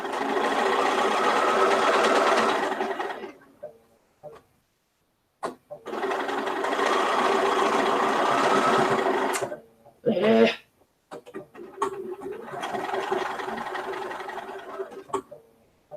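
A sewing machine stitches a quarter-inch quilt seam in three steady runs, each lasting a few seconds, separated by quiet pauses with small clicks and handling noises.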